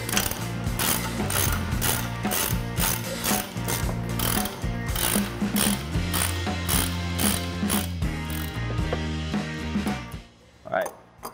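A hand ratchet clicks in quick repeated bursts up close while tightening brake caliper slide bolts during a rear drum-to-disc brake conversion, pausing briefly before a final few strokes.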